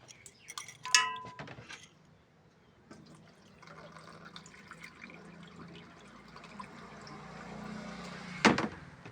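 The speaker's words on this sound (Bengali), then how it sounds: "ভাতের জন্য চাল ধোয়া হচ্ছে" Rice is rinsed in water for cooking, with soft sloshing and dripping and a sharper splash near the start and again near the end, fairly quiet and close.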